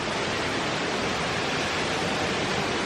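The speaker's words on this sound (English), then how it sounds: "Well, a waterfall." A nearby waterfall west of Coffs Harbour roars as a steady, loud broadband rush of falling water, continuous and alone with no voices.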